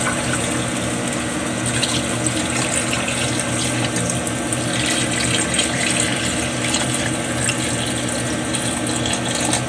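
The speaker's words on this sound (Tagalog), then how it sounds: "Lagyan na natin ng tubig guys para mag-absorb" Water runs steadily into a cooking pot of pork humba made with pork hock, a continuous gushing wash at moderate level with a faint hum beneath it and no one speaking.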